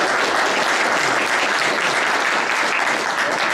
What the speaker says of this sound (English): So, if you could give one last applause to Art.